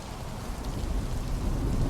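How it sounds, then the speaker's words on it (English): Heavy rain pours in the Return to Blackwell video game, a dense, steady hiss of drops on surfaces that swells slightly toward the end, with no voices. "with all the rain, heavy rain,"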